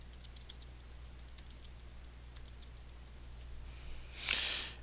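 Rapid, light key taps on a computer keyboard click in quick irregular bursts over a quiet hum, ending with a brief louder hiss.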